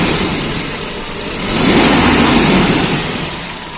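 A 1988 Toyota Kijang Super engine idles steadily up close, a continuous low rumble that swells slightly in the middle, with no talking.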